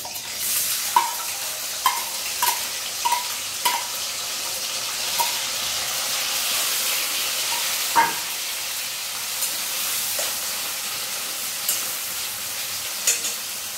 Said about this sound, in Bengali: তেলটা মোটামুটি গরম হয়ে গেছে। এবার তেলের মধ্যে প্রথমে দিয়ে দেব এই যে কুচিয়ে রাখা পেঁয়াজ